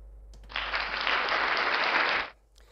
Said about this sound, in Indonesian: Oke, tepuk tangan dulu lah ya.